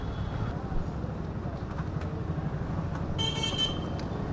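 Busy Hyderabad street traffic rumbles steadily with a short burst of horn honking near the end, while a voice talks over the noise.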